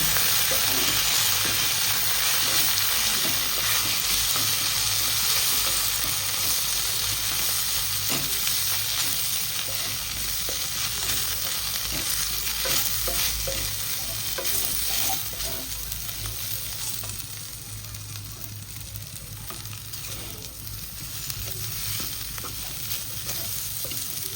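Cut chapati noodles are stirred and fried in a pan, producing a loud, continuous sizzle with steady scraping and tossing that eases slightly toward the end. No one speaks.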